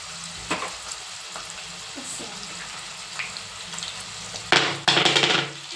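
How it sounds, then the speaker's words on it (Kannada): Brinjal pieces fry in a pan with vangibath powder and turmeric, giving a continuous close sizzle with scattered stirring scrapes and a louder burst of spatula clatter near the end. "ಇದನ್ನು ಚೆನ್ನಾಗಿ ಫ್ರೈ ಮಾಡ್ಕೋಬೇಕು"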